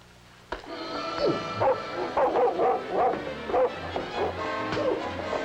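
A dog in a 1958 film scene barks and yelps repeatedly, then whimpers, the calls close and loud over a steady background hum, with no talk.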